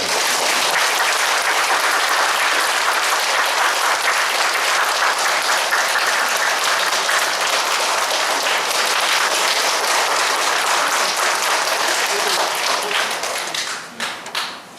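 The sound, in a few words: audience applause welcoming a speaker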